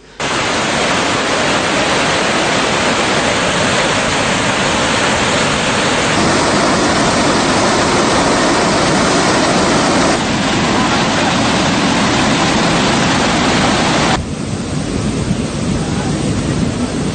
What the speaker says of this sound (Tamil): முத்தேன்கட்டுக்குளம் மற்றும் வவுனிக்குளம் ஆகியன வான் பாய்ந்து வருகின்றன.